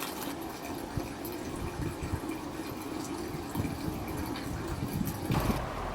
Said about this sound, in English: The water's not coming out of a bamboo pipe, it's coming out of, looks like a dragon.